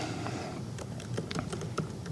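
Fingers typing on a computer keyboard for an amateur radio keyboard-to-keyboard messaging app, a quick, uneven run of close, crisp key clicks with no talking.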